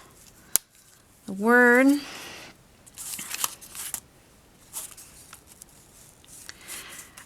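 Scissors trim ribbon tails during card making, giving a sharp snip followed by a few quieter cuts and rustles, with a short spoken word in between.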